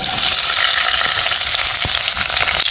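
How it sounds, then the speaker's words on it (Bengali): Onions fry in a hot pan with bay leaves, giving a loud, continuous sizzle close by, with occasional scraping clicks as they are stirred. "পেঁয়াজগুলোকে ভালো মতো নাড়াই করে নেবো"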